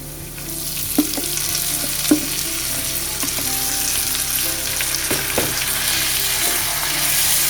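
Steady frying sizzle of rice, nuts and raisins in ghee throughout, with a few soft stirring clinks and scrapes at irregular intervals; close and fairly loud, no talking.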